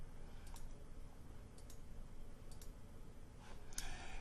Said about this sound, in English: we'll click on the spread creator